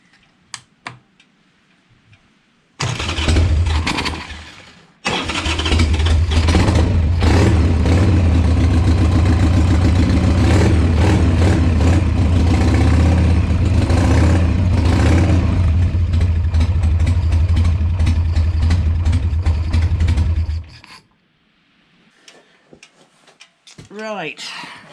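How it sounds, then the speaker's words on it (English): A Harley-Davidson motorcycle engine is test fired after a throttle rebuild. It catches loudly, stumbles and cuts briefly, then restarts and runs at a rough, steady idle for about fifteen seconds before shutting off into quiet. "I think before I go much further I might just have a test fire of this, make sure it all actually works."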